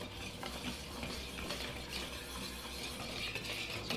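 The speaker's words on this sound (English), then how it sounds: "Get that whisked together" A batter mixed with warm water is whisked in a bowl with quick, steady strokes, a quiet close scraping and ticking with no one talking.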